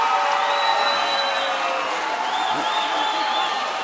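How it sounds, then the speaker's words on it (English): A crowd at a fight event roars and cheers through the round, a loud continuous wall of voices with shouts and whistles rising over it, and a commentator talks over the din. "And listen to the crowd, man."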